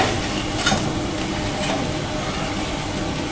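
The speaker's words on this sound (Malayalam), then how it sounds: "ഇപ്പോൾ ആലു ടിക്ക നന്നായി ഫ്രൈ ആയി വന്നിട്ടുണ്ട്" Aloo tikka potato patties fry in hot oil, giving a steady, loud broadband sizzle throughout with a couple of brief louder crackles near the start, and no voices.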